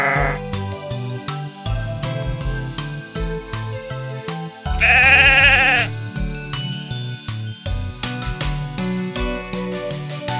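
Sheep bleat repeatedly over a busy, jingly musical background, with one long, loud bleat standing out near the middle, from a children's toy story featuring Peppa Pig toys.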